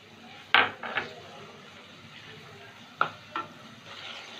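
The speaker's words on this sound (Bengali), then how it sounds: "একটু নেড়ে চেড়ে নিলাম।" Chicken dopyaza masala with sour yogurt being stirred in a pan, a few scraping strokes spaced out against a faint background sizzle, close and fairly quiet with no voices.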